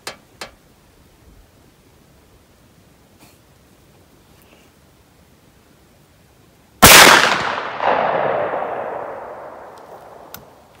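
A single loud shotgun blast firing a .510 275-grain 32-gauge slug at a range, sharp crack followed by a long decaying rumble, preceded by several seconds of quiet with faint clicks.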